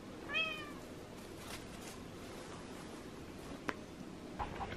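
A cat meows once early, fairly clear, in a quiet snowy North Idaho setting, followed by faint rustles and a sharp tap near the end.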